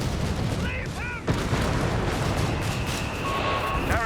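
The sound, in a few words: gunfire in Company of Heroes 3 video game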